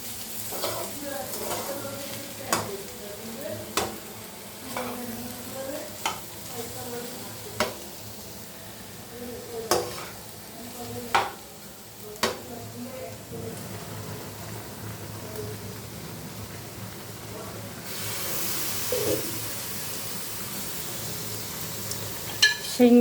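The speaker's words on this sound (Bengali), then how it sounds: "রান্না করতেছি আলু ভাজা" Potatoes frying in a pan sizzle softly and steadily while a spatula scrapes and taps the pan at regular intervals, the stirring knocks stopping before a louder hiss rises near the end.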